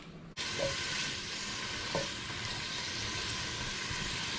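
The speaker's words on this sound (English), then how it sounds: "Just going to saute that off for a minute in a little bit of oil" Roughly chopped brown onion sautéing in a little oil, a steady close sizzle starting abruptly after a brief quiet moment, with a couple of light utensil clicks.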